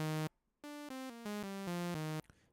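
A buzzy, harmonically rich sawtooth-wave tone from a synth built in Ableton Live steps through a short run of pitches, loud and steady, after a brief pause; no voices.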